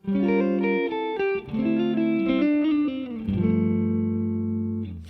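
Distorted electric guitar neo-soul chords ring out one after another, with notes bending and sliding into place through hammer-ons and slides before a final sustained chord fades.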